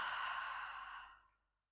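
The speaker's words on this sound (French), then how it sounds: "On prend une grande inspiration par le nez. On expire bouche ouverte." A single long, breathy exhale through an open mouth during a relaxing yoga breathing exercise, a soft close rush of air that fades out after about a second and a half, with no talking.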